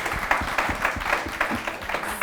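An audience at a talk on marriage and relationships claps in a loose, uneven burst, individual hand slaps standing out against a dull room murmur, close and moderately loud.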